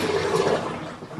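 Water rushing out of a portable washing machine as it drains, a brief steady gush, close and fairly loud.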